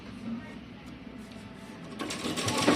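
A sewing machine runs a straight stitch along saree belt fabric, a steady mechanical whir that grows louder and busier toward the end, with no talking over it.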